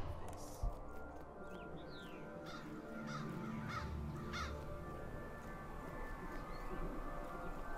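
Crows caw a few times at a distance in the Roman gladiatorial management game Domina. The calls are faint and scattered over a low, steady ambient bed, with no speech.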